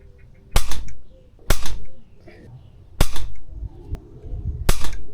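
An air rifle fires pellets in a series of four sharp, loud, close cracks spaced about a second apart, each followed by a brief thud and short decay, with faint breathing and handling noise between shots.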